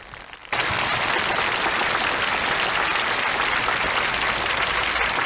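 Loud, sustained applause from a large audience at a June Fourth memorial gathering in Hong Kong, starting abruptly after a half-second hush and continuing as a dense, steady roar of clapping.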